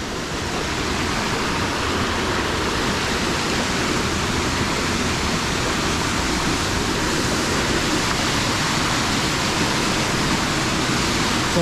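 The Paklenica mountain stream in Croatia's Paklenica National Park rushes loudly and close by as an unbroken, dense roar of flowing water, with no voices.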